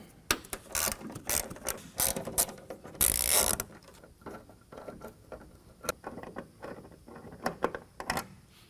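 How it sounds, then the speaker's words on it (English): Tail light bolts being backed out with a T25 Torx bit on a 2020 Ram 2500, giving a close run of quick ratcheting clicks and bursts of driver whirring, with a louder spell in the middle and no talking. "Those come out with a T25 Torx bit."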